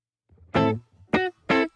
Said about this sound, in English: So that's a totally dry guitar sound.